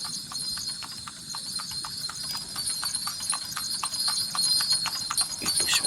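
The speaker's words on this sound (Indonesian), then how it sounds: "Dengar nggak kayak suara kuda?" Rhythmic clip-clop of a carriage horse's hooves on pavement, a horse-drawn delman, steady and moderately close, with a brief whinny and faint background noise.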